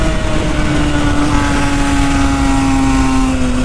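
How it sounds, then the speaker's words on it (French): Motorcycle engine running steadily during a ride on a winding road, a loud continuous drone with a slowly rising pitch, heard alone with no talking. "vous entendrez bien le bruit de la moto"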